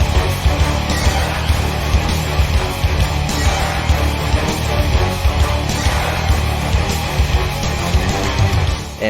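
A track plays as main-menu music in a mobile version of Command & Conquer: Red Alert (2009 iOS / J2ME), taken from Red Alert 3: dense, loud, driving military-style track with heavy low end and steady pounding rhythm.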